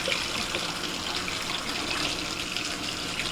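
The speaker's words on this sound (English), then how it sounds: "I'm gonna get some of that water out of there" Water pours steadily from a pot of boiled potatoes into a sink, a continuous hissing splash at close range with an even level and no talking.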